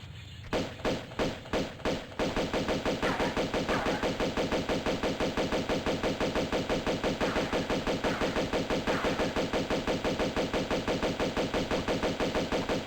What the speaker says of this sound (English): I absolutely love the pistol sound effect in Tomb Raider 2